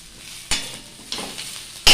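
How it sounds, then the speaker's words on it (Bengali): Shrimp stirred with crushed garlic in a hot frying pan for a Bengali jhinga bata, a steady close sizzle broken by three sharp scraping strokes of the spatula. "তারপর রসুন থেতোটা দিয়ে দেবো। এবার এটাকেও দিয়ে ভালো করে নেড়ে নেবো।"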